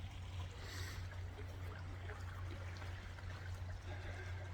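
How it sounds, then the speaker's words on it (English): Water trickling in a small creek in the Big Thicket, a steady soft babble of flowing water that continues evenly throughout, with a low constant hum underneath. "This little creek is nice."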